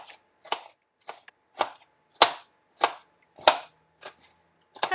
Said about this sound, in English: When you run the potato through the spiralizer, it makes it all into one long piece, so we're just chopping it up a little bit